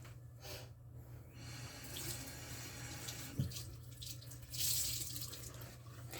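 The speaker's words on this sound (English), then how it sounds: "You may want to rinse just to make sure your skin's nice and clean." Tap water runs into a sink while someone rinses their face. The faint, steady splashing trickle shifts with the hands, and there is a brief louder splash near the end. No speech.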